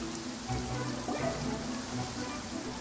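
Steady rain falling on surfaces in the video game Genshin Impact, a constant close hiss and patter lasting throughout with no one talking.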